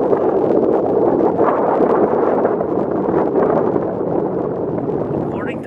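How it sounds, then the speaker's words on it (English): Strong wind roars continuously across the top of an earthen mound, a dense, steady rumble buffeting the microphone for the whole stretch without letting up. "It's really windy"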